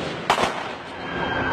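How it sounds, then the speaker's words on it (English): Gunfire during a shooting in Dallas: two sharp reports in quick succession, the first louder, followed by a low, steady background wash, with no voices. "They're shooting right now"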